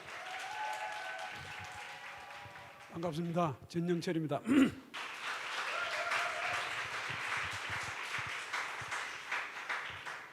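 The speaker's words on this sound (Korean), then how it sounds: "우리 박수로 교수님 모시겠습니다." A church congregation at a family-month invitation event applauds to welcome a visiting professor, moderate clapping running through most of the clip and briefly giving way to a man's spoken greeting in the middle.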